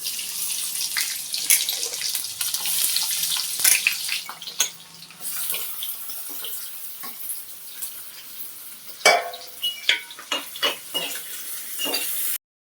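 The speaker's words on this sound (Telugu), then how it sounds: "ఇప్పుడు సన్నగా కట్ చేసుకున్న ఉల్లిపాయ ముక్కలు వేసుకుందాం." Thinly sliced onions hitting a pan with cumin seeds and being stirred, a bright sizzle running throughout with scraping and clinking of the spoon against the pan, no talk.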